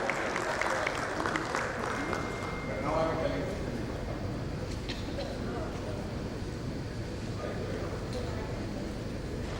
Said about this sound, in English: A big round of applause, ladies and gentlemen, to Vishal for his wonderful contribution in the panel.